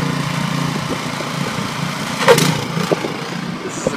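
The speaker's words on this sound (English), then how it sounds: "That's Chrissy's snow blowing." A snow blower runs in a St. John's, Newfoundland blizzard, a steady mid-pitched engine drone at moderate distance, with a brief louder scrape or burst partway through and wind-blown noise throughout.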